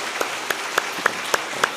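Clapping at a church's Wednesday worship service, a men's mission group dedication service, with several sharp claps in a steady rhythm, close by and fairly loud, with no talking.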